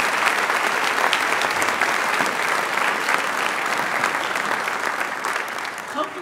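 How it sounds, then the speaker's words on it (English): Steady, dense applause from an audience honoring volunteers and staff at a school winter show, a loud continuous wash of many hands clapping throughout. "Please give all of them a round of applause."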